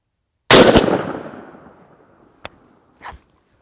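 A shotgun fires one 3-inch Magnum Remington 00 buckshot shell, a single sharp loud blast that decays into outdoor echo, followed by two faint clacks.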